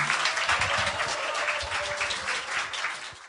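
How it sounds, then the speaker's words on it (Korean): A lecture audience gives warm applause to welcome a guest speaker at a talk on Korean and German reunification. The claps are thick and close, fading slightly over about three seconds, with no talking. "큰 박수 부탁드리겠습니다."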